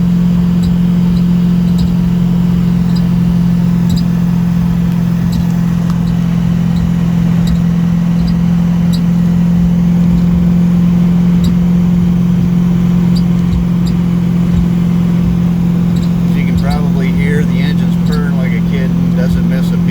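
Edelbrock Pro-Flow 4 fuel-injected 400 engine in a car on short 24–25 inch tires, a steady low engine drone throughout as the car accelerates, loud and continuous with a faint whine near the end.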